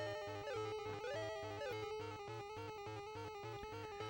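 Music from the hell level of the Earthworm Jim video game: a busy synthesized tune with a pulsing bass pattern and a wavering lead melody, continuous and quite faint.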